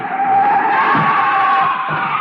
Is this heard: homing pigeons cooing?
no